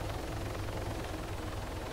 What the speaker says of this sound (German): Kann sie kaum verstehen, der Helikopter ist so laut.